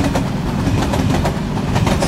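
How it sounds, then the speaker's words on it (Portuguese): A long train rolls past in the Nibble: Pizza Delivery video game, loud and close, a dense steady rumble with rhythmic clickety-clack wheel beats repeating throughout. "Caramba, mano, trenzão compridão esse, hein?"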